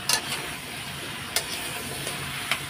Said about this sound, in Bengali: এই যে দিয়ে দিলাম কুমড়ো, এখন কষিয়ে নেবো ভালো করে।